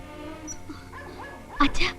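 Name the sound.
dog barking loudly at night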